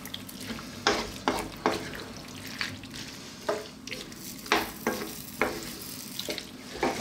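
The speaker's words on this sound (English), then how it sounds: "I'm going to let it go now for about 5 to 6 minutes, giving it a stir every now and then" A spoon stirs a pot of chickpea, cumin and vegetable stew, making repeated wet scraping and sloshing strokes at an uneven rhythm over a low simmering bubble.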